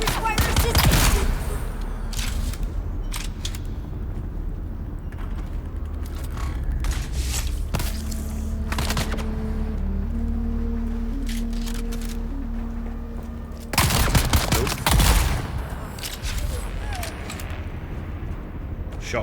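Gunfire from a GRDA gun in the game Dune Awakening: dense bursts of shots at the start and again near the end, with quieter mechanical tones and scattered reports between, and talk running over it.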